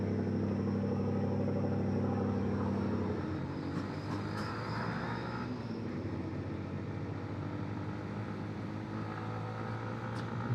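A large truck being overtaken on a Sniper 150 motorcycle during a ride in Real, Quezon; steady loud engine and wind rumble throughout, with a deeper droning tone in the first three seconds that drops away as the truck is passed.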